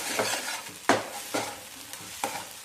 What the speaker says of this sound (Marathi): ही जी पेस्ट आहे अशी परतवून घ्यायची आहे